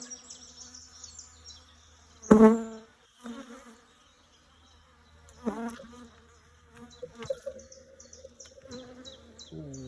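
Bees buzz close by around a hive in an attic, a steady insect drone under handling noises, with a sharp knock or bump and a few louder rustles.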